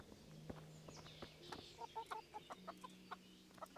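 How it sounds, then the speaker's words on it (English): Chickens cluck in the video game Kingdom Come Deliverance, a run of short, close clucks in a quick uneven rhythm with a few soft footsteps and faint ambient tones beneath, fairly quiet overall. "You love the sound of chickens"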